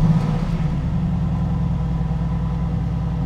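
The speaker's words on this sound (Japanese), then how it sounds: "ちょっとエンジンをかけてみます。" A push-button start fires up the engine of a Japanese special-edition car, which settles into a deep, steady idle close by with a slight rise at the start.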